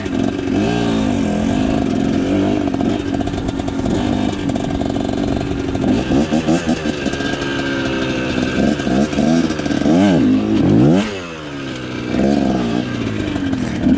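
A Kawasaki KT250 trials motorcycle engine putters and revs close by in second gear, the pitch rising and falling in bursts as the bike is ridden over stumps and obstacles, with one sharp rev near the end.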